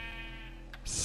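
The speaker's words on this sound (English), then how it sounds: "Oh, that's a sheep." A Minecraft sheep lets out a short, faint bleat, quiet against a low steady game background hum, followed by a brief soft noise burst at the end.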